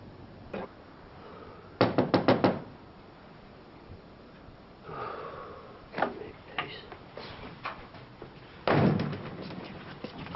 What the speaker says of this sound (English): I knocked at front.